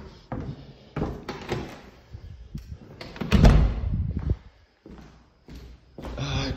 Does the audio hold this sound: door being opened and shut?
yes